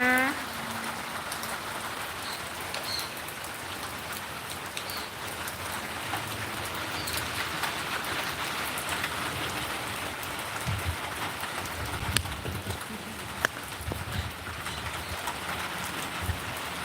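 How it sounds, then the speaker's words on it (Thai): Steady rain patters down continuously at Phuket Village, a dense hiss of drops on surfaces with occasional louder splats, no voices. "ตอนนี้ฝนกำลังตกอยู่นะคะ"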